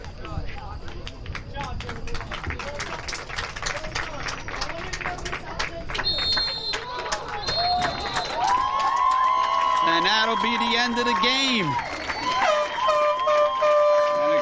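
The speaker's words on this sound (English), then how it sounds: "And the crowd goes wild" A crowd cheers and claps loudly at the close of a high school boys soccer game between Colonia and Perth Amboy at Colonia High School, rising over the last several seconds beneath a commentator's voice and a whistle-like tone.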